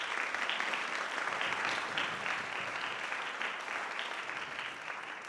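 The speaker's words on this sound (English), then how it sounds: "Round of applause for those soloists." Sustained audience applause at a school band concert honoring bass and guitar soloists, a dense steady clatter of many hands clapping together that continues evenly throughout and tapers slightly toward the end.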